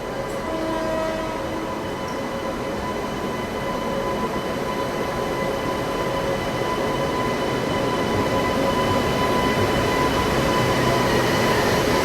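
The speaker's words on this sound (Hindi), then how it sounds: "ओरिजिनल लोकोमोटिव जो इसको लेकर के आया है वो आ रहा है अब" A WAP7 electric locomotive, Banaras-built and from the Ghaziabad shed, rolls into platform 14 at Sealdah station with a steady rumble and hum that grows slowly louder; no voices are heard.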